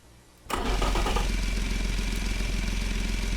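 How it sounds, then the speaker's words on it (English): A motorcycle-like engine in the Automation game cranks and fires up abruptly after a quiet moment, then settles into a loud, steady, buzzing idle. "it kind of sounds like a motorcycle engine"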